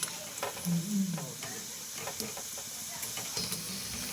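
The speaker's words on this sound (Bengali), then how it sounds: "ভাজা হচ্ছে" Prawn fish balls fry in oil with a close, continuous sizzle and crackle, marked by scattered sharp pops and spits of hot oil over a few seconds.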